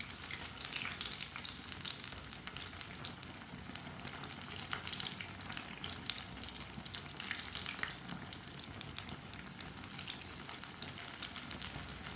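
Potato nuggets, shaped as tikkis, fry in oil in a pan, giving a steady, close, crackling sizzle that holds without a break and with no talk over it.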